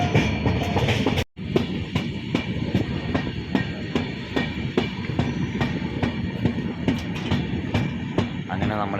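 A train rumbles steadily along the rails, arriving at Payyanur railway station in Kerala, with rhythmic clacking of wheels over joints, loud and close, with faint voices in the background.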